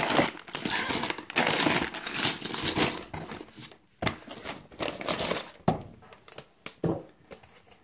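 LEGO Speed Champions Ford GT box packaging is opened nearby, with bursts of crinkling and tearing cardboard and plastic, irregular thumps and rustles that fade into quieter handling toward the end.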